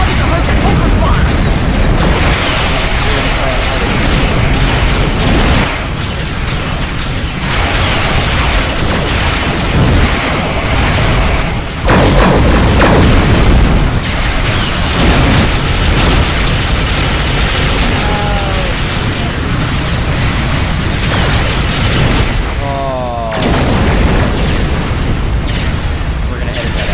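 Starship weapons fire and explosions in a Star Trek game boom loudly and almost without pause, a dense barrage of blasts and bursts filling the space, with occasional voices mixed in.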